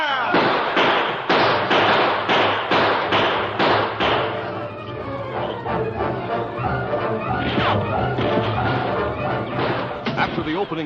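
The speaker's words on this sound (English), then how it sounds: "After the opening volley of gunfire" Gunfire in an old-time western radio drama: a rapid volley of sharp, loud shots fired in quick succession, then more scattered shots amid a busy, noisy background.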